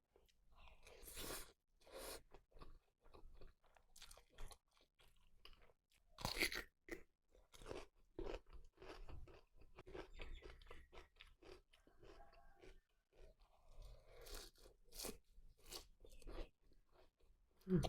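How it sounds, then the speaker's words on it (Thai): Close-up eating of rice with a crispy fried egg and shallots, with sharp crunches and wet chewing in an irregular rhythm and brief quiet gaps, recorded intimately at low overall level. "ไข่ดาวกรอบๆอเนี่ยนะทุกคนฟินมาก"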